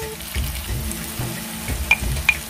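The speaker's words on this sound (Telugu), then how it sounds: "ఉల్లిపాయలు బాగా ఎగిపోయినండి, ఇలాగ ఎర్రగా ఎగిపోవాలి, మెత్తగా అయిపోవాలి" Chopped onions sizzle in oil in a pan for a dry fish and egg curry, a steady close frying hiss with a few light stirring scrapes and clinks.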